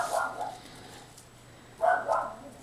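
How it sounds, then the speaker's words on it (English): A pet dog, a female, barks twice at moderate distance, with a short pause between the two sharp barks and a low steady hum underneath. "mentioned my dog and how much she barks"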